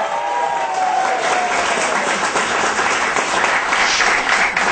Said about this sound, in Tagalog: pero palakpak muna kayo